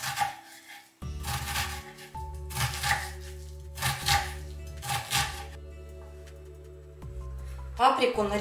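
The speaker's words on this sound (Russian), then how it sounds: "Паприку нарезаю тоже кубиком." Knife chopping paprika into cubes on a cutting board, a series of crisp, evenly spaced cuts close up, followed by a louder clatter at the end.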